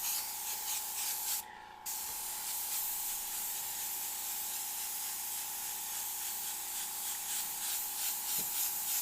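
Spray painting with tinted pearl-flake paint in an enclosed workshop, a steady close airbrush hiss running throughout with a brief pause near the start, no talking.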